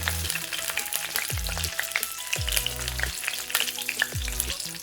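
Bay leaf and broken green chili frying in hot oil for a hotel-style dhal, a bright, dense crackling sizzle close by, steady throughout with small popping bursts.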